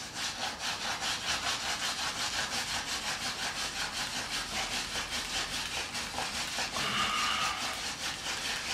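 A wooden hand drill spindle rubs rapidly in a wooden socket for a friction fire, making a rhythmic, close scraping with steady back-and-forth strokes that continue throughout.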